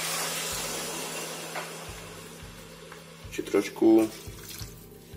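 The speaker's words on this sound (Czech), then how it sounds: "Zalejeme do vodu, vítám vodu." Water is poured into a pot of fried liver, onion and lard, making a short splashing burst near the end. A person talks over it.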